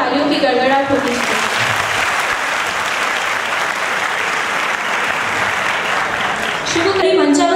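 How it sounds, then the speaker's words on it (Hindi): A large audience at an engineering college's first-year orientation program gives loud, thunderous applause for the dignitaries on stage, the dense clapping sustained throughout, with an amplified voice briefly audible at the start and again at the end. "उन सबके सम्मान में एक बार जोरदार तालियों की गड़गड़ाहट होती है।"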